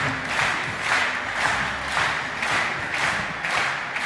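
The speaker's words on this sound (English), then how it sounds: "you're clapping in the rhythm, that's amazing. Like we're also cheering" A large audience at the WRO International Final 2022 robotics event claps in steady rhythm, bursts of applause and cheering pulsing roughly every half second and filling the hall.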